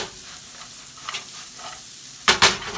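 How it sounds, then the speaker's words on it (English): Sliced onions and country-style potatoes frying in a pan give a steady, close sizzle throughout, broken near the end by a couple of louder scraping stirs. "Let them onions cook."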